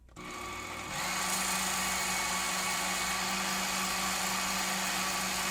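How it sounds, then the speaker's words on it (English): A small belt sander starts up and runs steadily, trimming parts for a trailer build to fit, a loud continuous whirring grind with a rising spin-up in the first second, close and unbroken, no speech. "bring back the little belt sander and I'm going to just tune these up, get them to fit"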